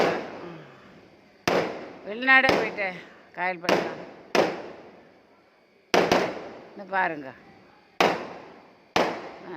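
Firecrackers burst at a ground celebration, about ten sharp, loud cracks with echoing decays spaced unevenly over several seconds, while people talk between the blasts.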